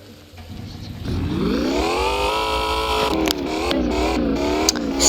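A car engine in the Roblox off-road game starts quiet, then revs up into a steady, rising drone with shifting pitch, loud and continuous with a few brief bumps near the end.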